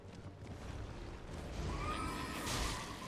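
A horse whinnies in Elden Ring's Weeping Peninsula amid a noisy, busy game soundscape, the neigh rising briefly out of a dense rumble of effects.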